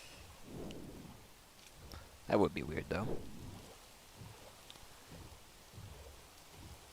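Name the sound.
rain and thunder in Minecraft video game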